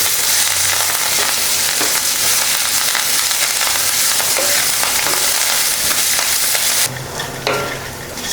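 Capsicum, grated coconut and coriander leaves sauté for chutney in a pan, giving a steady close sizzle and frying crackle with occasional stirring scrapes throughout, shifting brighter as fresh leaves go in near the end.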